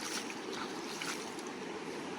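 Shallow river running over slippery stones during a foot crossing, a soft continuous wash of water, fairly faint and steady with no voices.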